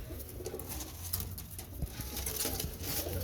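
Najafi Kambak pigeons coo in soft, continuous rolling calls, close by, with faint pattering and shuffling in the background.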